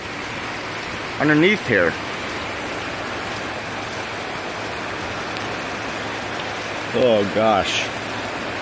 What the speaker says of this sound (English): The wind is like pushing the rain at me